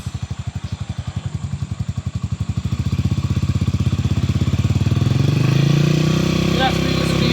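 A motorcycle engine revs close by as the throttle opens on the Marilaque road, its firing pulses climbing from a slow, loud chug to a faster, steady drone.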